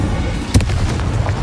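Incendio fire spell cast in Hogwarts Legacy, a single sharp whooshing burst of flame that stands out briefly over a steady rumbling game background.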